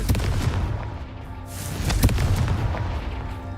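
Repeated magical fire blasts from the Confringo spell in Hogwarts Legacy, a steady roll of deep booming explosions layered over one another with sharper bursts near the middle, loud and continuous throughout.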